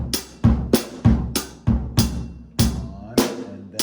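Drum kit beat with bass drum and cymbal hits landing mostly off the beat, about nine loud, evenly spaced strikes played close and alone.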